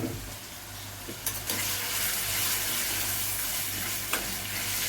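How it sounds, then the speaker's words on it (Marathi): Boiled, ground dill and taro leaf greens sauté in a pan with garlic and chilli paste, giving a continuous close sizzle with a few spatula stirs and scrapes, no talking. "आता हे चांगलं परतून घ्यायचं"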